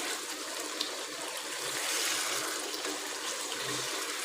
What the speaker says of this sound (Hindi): तो अब इसमें पानी ऐड करेंगे क्योंकि हमने इसका सही शोरबा बनाना है।